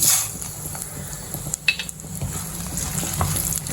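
Urad dal and chili fry in hot oil, a soft sizzle under clinks and scrapes of a spoon stirring against the pan.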